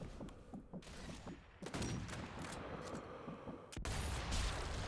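Gunfire from a Sniper Elite game session, with a sharp rifle crack near the start and a louder burst near the end, over a steady din of in-game battle noise and repeated impacts.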